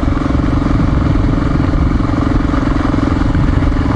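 An XR400R motorcycle engine runs at low revs on a dirt road, giving a loud, close, steady single-cylinder drone with a fine, even pulse and some mechanical clatter, uninterrupted and with no talking.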